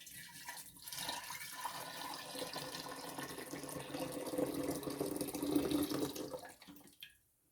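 Hot liquid for a jun fermented beverage pours in a steady, fairly faint splashing stream that swells toward the end before stopping abruptly.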